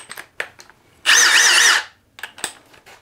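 A Milwaukee Fuel Gen 4 impact driver drives a fastener into a pre-drilled hole in one loud, close burst of under a second of whirring, with small knocks and handling clatter before and after.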